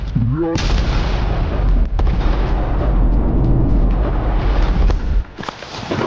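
About half a kilogram of sodium metal dropped into water sets off a loud, bomb-like blast, a sharp boom followed by a sustained roaring rumble that continues for several seconds before dropping away.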